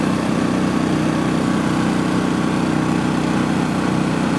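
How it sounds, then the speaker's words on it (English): A Champion 2800 watt portable generator runs nearby in a steady, loud, unbroken engine drone with a constant buzzing hum and no pauses. "I'm going to let the generator run for a little bit."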